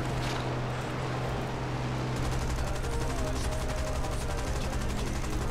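Aircraft machine guns fire in the War Thunder combat game as a dense, continuous rattling burst over engine drone, starting about two seconds in and lasting to the end.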